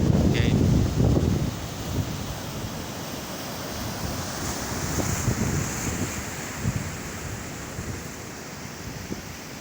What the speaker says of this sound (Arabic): كاين شوية الريح صراحة، كاين الريح